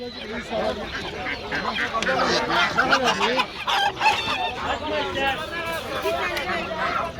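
Amrock roosters and chickens at a busy poultry market in Adana cluck and crow repeatedly close by, while people talk over the birds.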